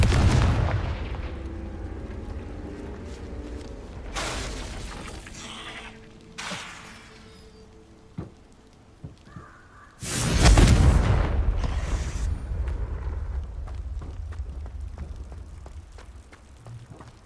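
Confringo blasting spells going off in Hogwarts Legacy, heavy booming explosions with crackling debris, several spaced bursts and one big blast followed by a long rumbling tail, with no talk.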